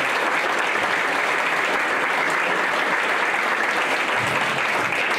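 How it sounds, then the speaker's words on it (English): Steady, dense audience applause fills a community panel event, a continuous wash of many hands clapping at a constant, fairly loud level throughout with no speech over it. "So please, quick round of applause for Davis Media Access."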